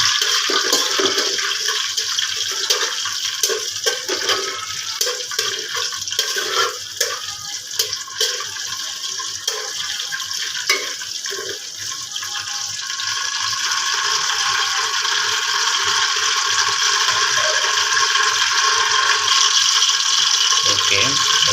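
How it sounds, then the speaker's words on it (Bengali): Bay leaf and cinnamon frying lightly in hot oil in a home kitchen, a steady bright hiss and sizzle running throughout, rising slightly louder in the second half, with no talking. "আমি এই তেলে তেজপাতা দারুচিনিটা হালকা ভেজে নিচ্ছি"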